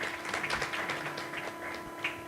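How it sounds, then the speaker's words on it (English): An audience claps a steady round of applause for the Director General at a public policy dialogue on agricultural extension services, a continuous patter of many hands at moderate volume. "Participants, please, another round of applause for our Director General."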